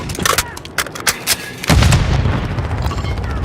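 A grenade goes off in Call of Duty MW III: rapid gunfire cracks give way to one heavy, loud blast that booms and rumbles on to the end.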